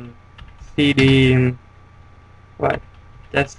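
A couple of short, crisp keystroke clatters on a computer keyboard, spaced apart, after a brief spoken word.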